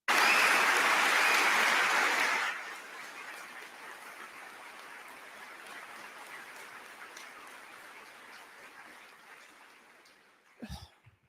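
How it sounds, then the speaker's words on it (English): Audience applause at a commencement speech, a loud burst of clapping for about two seconds that quickly drops to a faint, lingering patter under room ambience, with a brief thump near the end. "Listen to that applause."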